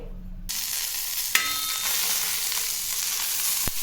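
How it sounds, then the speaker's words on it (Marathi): Green chillies roast on a hot griddle pan, giving a steady close sizzle with a sharp clatter as they go in and a brief scrape near the end, no voices. "त्याच तव्यात हिरवी मिरची भाजून घ्यायचं आहे"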